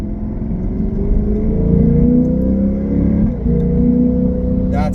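A Lexus IS500 sports sedan with an Apex'i N1 Extreme exhaust accelerates from first gear to about 3,500 RPM, a smooth rising growl heard up close, with a brief dip as the pitch resets before rising again.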